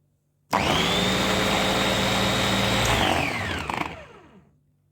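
An electric blender grinds garlic cloves for Syrian garlic sauce, switching on abruptly with a loud, steady whirring roar that runs for about three seconds and then winds down as the motor stops.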